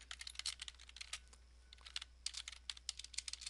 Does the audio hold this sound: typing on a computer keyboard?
yes